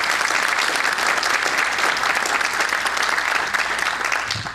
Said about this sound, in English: I think we need to give this ensemble a round of applause for the wonderful job last night.